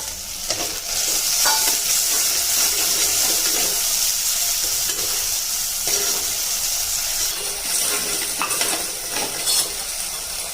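Ginger, chili and garlic paste sizzles and fries in a pot for handi undhiyu, a continuous bright hiss broken by scraping stirs and occasional metal clinks of a spoon against the pan.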